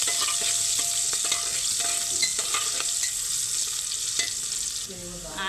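Onions frying in oil in a pan for a Dussehra botty curry, a dense steady sizzle with occasional stirring clatter, close and continuous.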